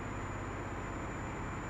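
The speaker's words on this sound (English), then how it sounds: "that's the fan on the back of the computer because it keeps on overheating" A computer's rear cooling fan, overheating, gives a steady, low broadband hum with a faint high whine that runs unchanged throughout, droning close by.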